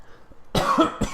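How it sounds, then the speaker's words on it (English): One person coughs, a short burst of two or three close harsh coughs following a quiet moment. "Coughing."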